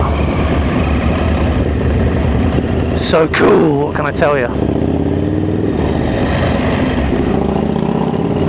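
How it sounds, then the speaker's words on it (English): A noisy Harley-Davidson motorcycle engine near a small harbour rises in a brief rumble, heard over a rider's steady motorcycle engine drone while someone talks throughout. "there's that noisy Harley look"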